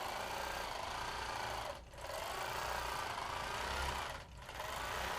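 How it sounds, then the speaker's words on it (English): A sewing machine stitches freehand circle quilting with a fast, steady mechanical chatter, close and continuous, easing off twice in brief pauses before resuming at the same pace. "I'm just going to continue stitching along that line and then come out and do my feather this way."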